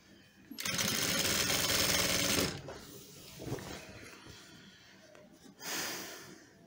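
An electric sewing machine with adjustable speed stitches a shirt in a fast, loud whirring burst of about two seconds, then falls quiet amid soft handling noises before a second short run starts up.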